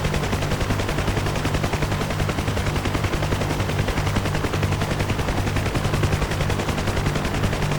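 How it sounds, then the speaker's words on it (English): Heavy machine-gun fire rattles nonstop in the DCS combat flight simulator, a dense, rapid, unbroken stream of shots that stays loud and close throughout, with no speech. "Some fucking heavy fire coming from those guys."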